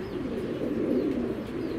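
An imported racing pigeon brought from abroad coos in a low, continuous soft murmur, steady and close, with no talk over it.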